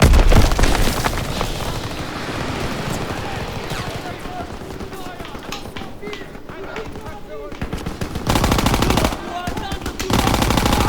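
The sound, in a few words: grenade explosions and gunfire in a video game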